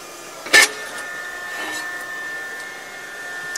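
A Scotchman ironworker shears metal stock: one sharp, loud cutting crack rings out over the machine's steady hum, which carries on afterward.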